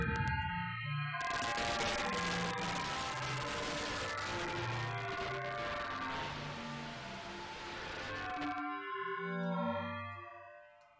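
A harsh, buzzing synth tone through a sawtooth fold distortion effect churns loudly for several seconds, thick and gritty, between cleaner, softer tones at the start and end.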